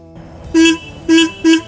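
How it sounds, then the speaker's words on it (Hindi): Three short honks from the horn of a 2020 Royal Enfield Himalayan motorcycle, close and loud, the second and third quickly following the first, over a low idle hum. "इस तरीके का इसका हॉर्न है"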